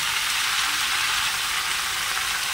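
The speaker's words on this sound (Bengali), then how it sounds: "তো এটা একটু আগে ভেজে নিই, এটা ভাজা হয়ে গেছে, দিয়ে দিচ্ছি শাকটা।" Greens (shak) frying in a pan of hot oil for a vegetarian dish, giving a steady, dense sizzle that stays even and close throughout with no pauses.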